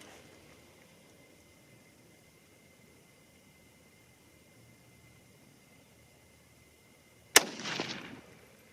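A single sharp, loud rifle shot from a .22-250 Remington or .22 ARC cracks near the end of a quiet outdoor stretch, followed by a brief rolling echo.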